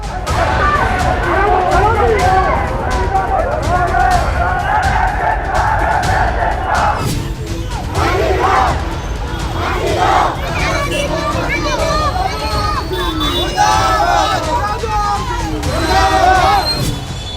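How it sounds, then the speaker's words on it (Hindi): A large protest crowd in city streets at night, where demonstrations turned violent, roars and shouts slogans in a loud, dense mass of voices with rising chants and cries throughout. "भीड़ की भीड़ निकलती आ रही है, सड़कों पर बेखौफ होकर नारेबाजी कर रही है"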